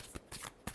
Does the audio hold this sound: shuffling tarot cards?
yes